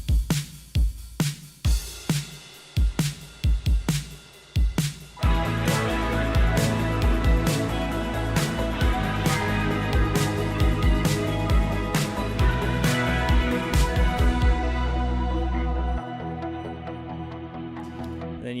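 A programmed pop-style drum beat starts with sparse punchy hits, then fills in with a washy ride cymbal groove over a steady pulse and bass, loud and continuous before the low end drops out near the end.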